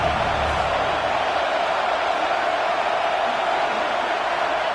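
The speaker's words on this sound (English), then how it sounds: "Here comes this home crowd as the defense tries to get off the field on 3rd down" A home crowd roars at a Georgia vs Oregon football game as the defense tries to get off the field on third down, a dense, steady, sustained wall of cheering and noise.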